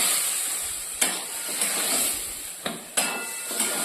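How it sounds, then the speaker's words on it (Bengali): Boiled peas and potatoes stir-fried in oil in a pan, giving a steady close sizzle broken by a few sharp scrapes and clinks of a spatula against the metal pan. "এখানে আমি দিয়ে দেবো আগে থেকে সেদ্ধ করে রাখা মটর আর আলুটা। এরপর এটা খুব ভালো করে কিছুক্ষণ একটু কষিয়ে নেব"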